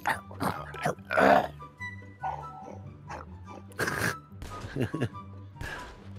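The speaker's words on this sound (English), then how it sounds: "That's the tank for you. Sound like a fucking pig." Deep, snorting pig-like grunts from a tank in GTA Online, in several bursts, mixed with game noise and people talking over them.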